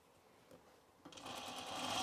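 A sewing machine stitches down a trouser seam toward the inseam after a back stitch, starting with a couple of short bursts and then running in a steady, rising whir.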